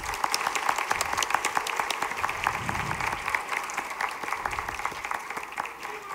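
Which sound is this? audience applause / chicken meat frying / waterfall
audience applause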